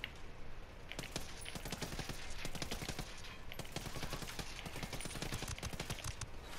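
Rapid gunfire bursts from the video game Ghost Recon Wildlands, dense cracking shots repeating through the whole stretch, loud and close, with no talk over them.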